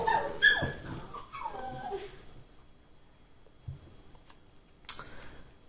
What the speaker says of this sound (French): Ça, c'est mon chien qui a vu un chat.